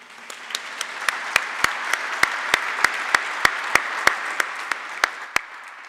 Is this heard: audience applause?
yes